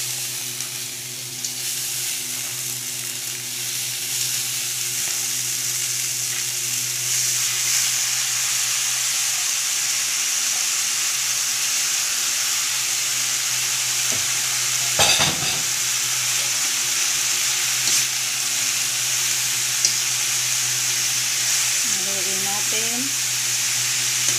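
Bean sprouts are sautéed with tofu in a pan, giving a loud, steady hiss and sizzle close up, with a few scrapes of stirring and a brief clatter midway.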